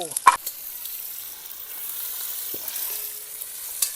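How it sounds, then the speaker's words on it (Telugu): Green chilies, onion and three tomatoes fry in a pan for a village-style spicy chicken fry, giving a steady soft sizzle throughout with a sharp clatter near the start and a couple of faint clinks later. "ఈ పచ్చిమిరపకాయ అయితేమి, ఎర్రగడ్డ అయితేమి, ఈ 3 టమాటా బాగా పచ్చి వాసన లేకుండా వేగాలండి."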